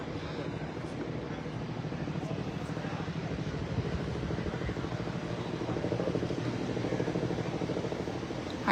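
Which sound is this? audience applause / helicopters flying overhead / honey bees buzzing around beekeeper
helicopters flying overhead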